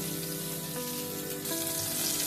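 Eggplant pieces fry lightly in oil for an ilish fish curry with cauliflower, making a dense, continuous close sizzle that swells slightly near the end.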